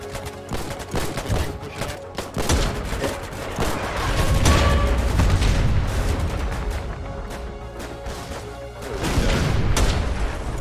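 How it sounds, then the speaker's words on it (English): Cannon fire and artillery rumble in the war video game Foxhole. Heavy booms and rapid bursts overlap in a loud, continuous barrage with little pause. "There's some cannon"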